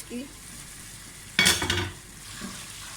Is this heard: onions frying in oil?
yes